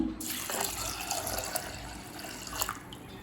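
Water poured steadily into a cooking pot with lentils for Tamil paruppu kuzhambu, a continuous close gushing splash that runs the whole time and eases off near the end, with no voices.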